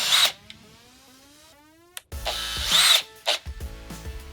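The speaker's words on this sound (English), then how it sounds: "Here's where your drill comes in handy again." A power drill whirs in short bursts while installing string lights, revving up and winding down twice, close by, with brief mechanical clicks between runs.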